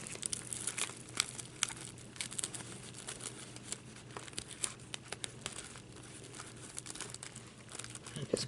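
Double-sided tape being peeled and pressed onto the back of a handmade Christmas hot cocoa potholder: steady close crinkling and small tearing crackles throughout, with no talk.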